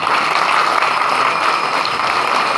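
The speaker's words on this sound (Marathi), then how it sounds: "त्याच्याकरता टाळ्या वाजून आपण त्याचं स्वागत" A crowd at a Bhagwat Saptah kirtan claps to welcome a young boy, a dense, steady roar of applause that stays loud throughout.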